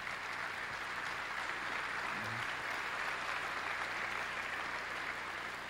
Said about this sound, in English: Were my children applauding there?